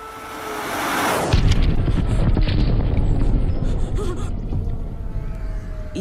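A missile strike in a virtual reality city scenario, heard from a tall building: a rising whoosh breaks into a heavy, booming explosion that rumbles on loudly with debris-like crackle and a faint voice mixed in.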